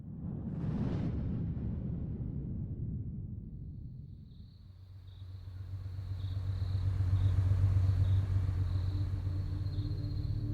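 A red car moves down a quiet residential street at night: a low engine rumble swells past, fades, then returns as a steady deep hum, with a faint insect chirp in the background.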